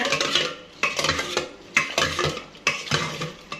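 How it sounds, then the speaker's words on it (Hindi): A spoon stirs salt into lassi in a glass, four rhythmic rounds of clinking scrapes, close and clear with no talk. "नमक को मिक्स कर लें हम।"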